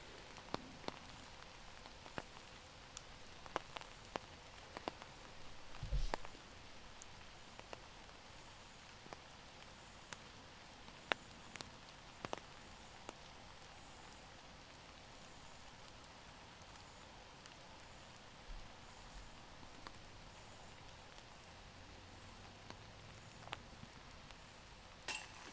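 Light rain falls at an outdoor disc golf tournament, faint scattered drops ticking on nearby surfaces over a soft, steady background hush, with no talking.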